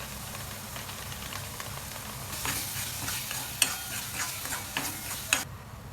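Paneer masala stirred and sautéed in a pan: a quiet sizzle, then a few seconds of scraping, clinking spoon strokes near the end.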